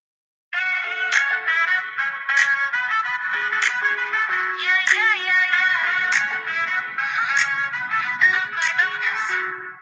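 A phone ringtone plays a bright, repeating electronic melody of stacked tonal notes, loud and close, running continuously for several seconds.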